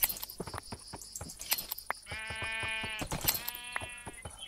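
Several sheep bleat in Minecraft, short wavering cries repeating close by amid scattered clicks and footsteps, with no talking.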